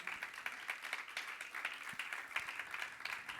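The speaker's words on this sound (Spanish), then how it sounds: "Dale palmas al Señor." A church congregation claps their hands in a brisk, steady rhythm, with many hands sounding together at a moderate distance and no other sound standing out.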